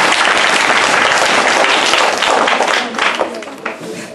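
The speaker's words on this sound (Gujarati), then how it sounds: "તાળી થી તેને સ્વાગત કરીએ" An audience at a tribal singing-star audition at an ashram school gives a loud, dense round of applause to welcome a singer, with the clapping thinning out toward the end.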